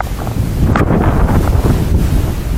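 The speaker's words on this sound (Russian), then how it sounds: "Опять ветер." Strong wind buffets the microphone in loud, continuous gusts, with a faint wash of water in the background.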